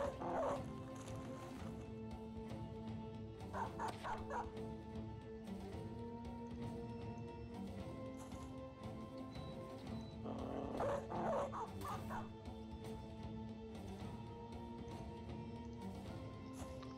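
War dogs in the Battle Brothers video game bark and yip while chasing fleeing enemies, with two clustered bursts of barking over a steady game soundscape and a voice talking quietly.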